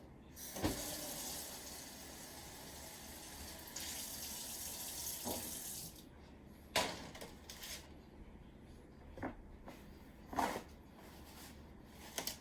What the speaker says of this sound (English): And you want to rinse the pan that you had them drying on.